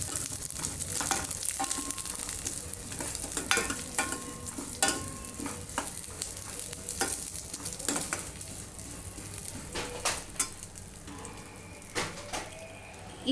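Vermicelli being roasted and stirred in a hot pan gives a continuous soft sizzle, broken by repeated scraping and clinking strokes of the spoon against the pan, close and fairly loud.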